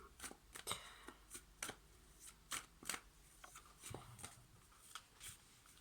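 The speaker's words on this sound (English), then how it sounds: "I forgot you need to shuffle them gently." Tarot cards being shuffled by hand, a series of crisp riffling bursts and soft slaps at an irregular rhythm, close and fairly quiet, with no talking.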